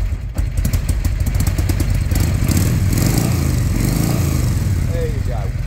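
A 1993 Harley-Davidson Ultra Classic Electra Glide with a 1340 Evo V-twin runs cold on choke, a loud, close, lumpy potato-potato idle thudding steadily throughout.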